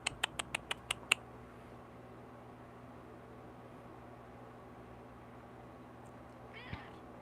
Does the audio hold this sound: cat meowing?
yes